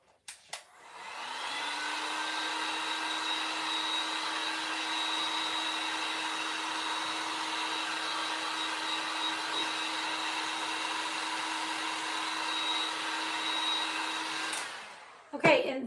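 A hair dryer runs steadily for about fifteen seconds, drying a freshly cleaned item after a brief start, its even whirring hum constant and fairly close.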